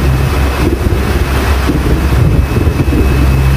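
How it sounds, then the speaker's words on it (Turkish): A sailboat's engine runs at raised speed while under way at sea, a steady low throb buried under loud wind buffeting and rushing water, continuous with no voices. "Motoru hızlandı, çekiyor."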